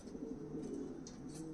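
Soft, low cooing of a Saharanpuri pigeon runs steadily through the whole moment, a close, muffled rolling coo with faint faraway chirps above it.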